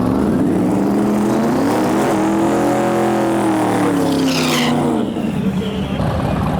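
A drag race car in the lanes at Gainesville Raceway during Sick Week, its loud engine droning steadily and rising then falling in pitch over several seconds, close and continuous with no talk.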